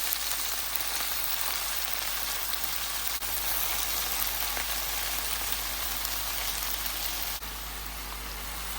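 Chukka kura (sorrel leaves) frying in a pan with green chillies sizzles with a continuous, even crackling hiss that resembles steady rain, close and fairly loud, with no speech.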